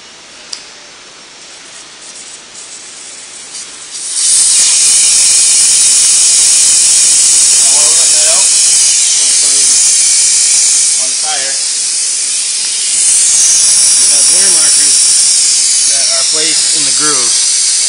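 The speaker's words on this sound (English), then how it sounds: "remove the valve cord, let the air out of the tire" Air hisses out of a tire through the open valve with the valve core removed: a loud, sharp, steady hiss that starts abruptly after a quiet moment and surges again partway through, with someone talking over it.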